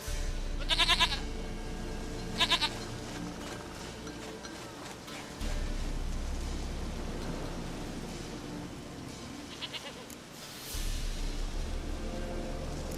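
Goat bleats in the video game The Witcher 3, three short wavering cries spread over a quiet background with low ambient hum that cuts in and out.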